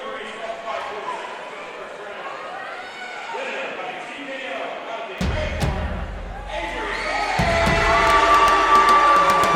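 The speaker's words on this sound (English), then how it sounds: "Hear the boos" A wrestling arena crowd reacts loudly to the official decision, a rising roar of boos and jeers swelling toward the end, with announcer talk and sharp thuds mixed in.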